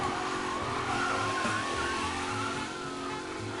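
A race car being driven in the Mafia game, with the engine droning steadily and tires squealing and skidding through the clip, close and fairly loud with no talking.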